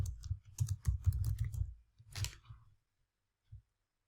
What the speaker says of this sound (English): let me just type in Simplilearn